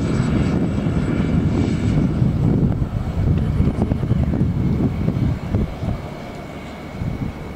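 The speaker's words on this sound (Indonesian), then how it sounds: "itu seaplane namanya. Pesawatnya mendarat di air." A propeller seaplane landing on water in the Maldives drones steadily at a distance, its engine noise mixed with wind rumble, swelling and easing slightly over the stretch.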